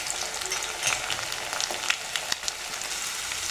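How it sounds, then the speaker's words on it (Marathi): Garlic-ginger paste fries in hot oil alongside onion, giving a close, crackling sizzle with a few spatula scrapes and taps over its short run. "लसूण अद्रक छान परतून झाले"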